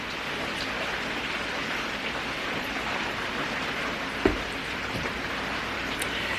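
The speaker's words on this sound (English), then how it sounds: "it's good that we're getting a good solid rain today" Steady, solid rain falls throughout, a dense even patter on surfaces with one sharper nearby drop or knock partway through; no voices.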